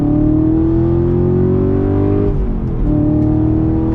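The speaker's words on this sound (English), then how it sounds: "We're in second gear right now, on throttle." A 2020 Chevrolet Camaro SS engine pulls hard in second gear, its loud rising drone climbing steadily before dipping briefly and surging again.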